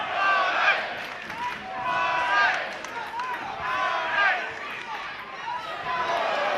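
A home crowd cheers and shouts for fighter Steve Baldacchino at a 2015 fight event, a steady, loud roar with swelling waves of voices and calls throughout.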